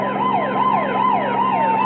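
A police car siren wails in steady rising and falling sweeps, loud and close, with no talk over it.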